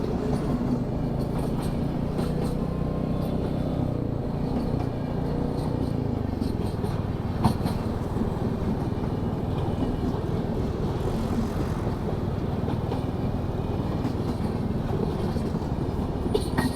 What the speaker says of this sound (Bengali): এদিকে ট্রেন যাচ্ছে।